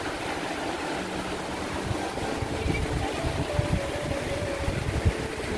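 Mountain stream water flows near a lake in Italy, a steady broadband rushing wash at moderate distance with faint low rumbling underneath and no voices.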